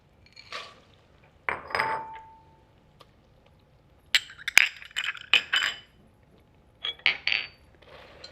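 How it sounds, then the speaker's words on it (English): Pistachio candy mixture with sesame seeds, baking soda and salt stirred in a saucepan, sparse metallic clinks and scrapes of a utensil against the pot in short separated bursts, fairly close. "you'll stir everything together in the saucepan"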